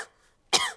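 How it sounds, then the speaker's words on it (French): Cartoon child catching a cough in a French-dubbed animated series: a single short, sharp cough after a near-silent pause. "Maman, papa, j'ai attrapé une toux."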